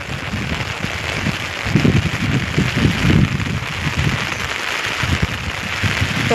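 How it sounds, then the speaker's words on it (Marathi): Heavy monsoon rain pours down steadily and close by, a dense, unbroken hiss of drops drumming on surfaces throughout. "कसलाही पाऊस आलेला आहे"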